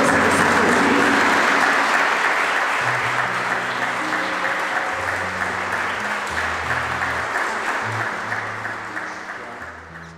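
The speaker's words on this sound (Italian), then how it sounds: "Facciamo un applauso a Giussi e Marcello." Wedding guests applaud the couple in a sustained, dense round of clapping that tapers slightly toward the end, with faint music tones running underneath.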